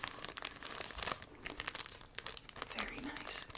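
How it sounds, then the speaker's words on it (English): A crinkly plastic bag from a thrift haul is handled up close with steady rustling and crinkling throughout, and a soft-spoken voice talks quietly over it. "Very nice, crinkly bag."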